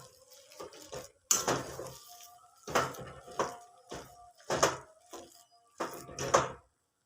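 Ingredients for a spiced pea kachori filling are stirred in a cooking pot, a series of scraping, clinking strokes in uneven bursts, close and fairly quiet with pauses between.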